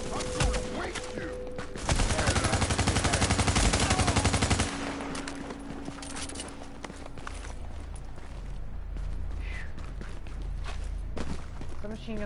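Assault rifle fire in The Division: a rapid, evenly spaced automatic burst lasting about three seconds, loud and close, with footsteps and scattered shots before and after.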